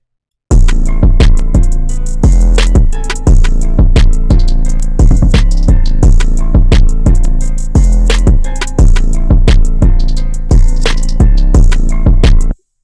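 A track pushed through the Mike Dean Gainstation distortion plugin clips hard: a loud, saturated rhythmic beat of punchy repeated hits over a thick, sustained low end, crushed and continuous with no pauses.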